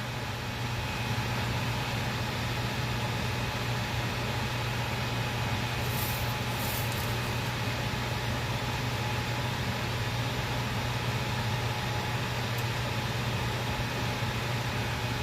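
A stove vent fan runs steadily to clear fumes while Castile soap is made, a constant broadband whir with a low hum, unbroken and fairly loud throughout.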